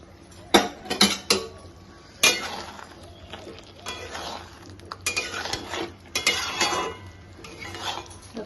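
Chili fish made with bhetki is stirred in a pan after cornflour water is added, giving close metallic scrapes and clinks of a spatula against the pan over a soft sizzle, in irregular bursts.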